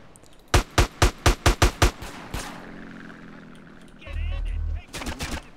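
Seven sharp, evenly spaced shots ring out in quick succession in GTA San Andreas gameplay, followed by a single shot, a low rumbling burst, and a final rapid cluster of shots.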